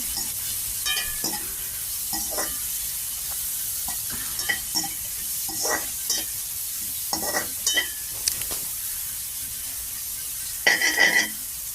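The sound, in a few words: stir-frying chopped leeks in a pan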